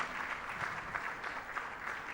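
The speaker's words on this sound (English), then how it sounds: "A round of applause for her," Audience applause for Dr. Chika after a talk on emotional wellness, a short stretch of fairly faint, even clapping from a crowd.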